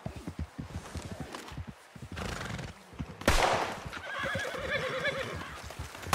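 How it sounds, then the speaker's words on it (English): Horse neighing and whinnying in Red Dead Redemption 2 over clip-clopping hooves, with a sharp loud burst midway and a long shrill whinny that follows, close and clear. "you're scaring my horse"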